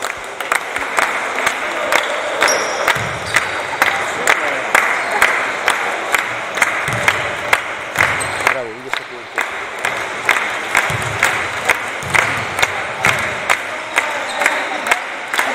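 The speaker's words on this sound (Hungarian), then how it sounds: "Na, kis bíztató taps a lányoknak!" Lively encouraging clapping and cheering for a group of girls during a basketball training session, with rhythmic claps, shouts of support and occasional voices throughout.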